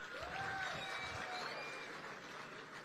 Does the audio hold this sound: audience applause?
yes